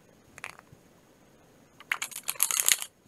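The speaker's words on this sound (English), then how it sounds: "And I am shuffling cards" Playing cards are shuffled on an early Saturday morning, a brief riffle of crisp flicks, a pause, then a longer burst of rapid papery snaps close to the listener.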